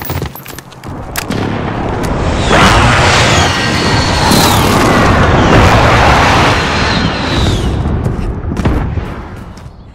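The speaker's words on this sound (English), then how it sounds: "Enemy precision airstrike," Heavy explosions from an enemy precision airstrike in Call of Duty Modern Warfare team deathmatch, a loud sustained barrage of booms and rumbling blasts with sharp cracks, building and holding for several seconds before tailing off.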